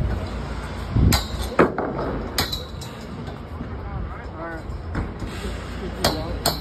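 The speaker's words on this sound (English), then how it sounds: "can you hand me or toss me up my hammer?" Hammer blows on stage rigging during a concert tour setup, a few sharp separate metallic hits spread out under crew talk and background clatter.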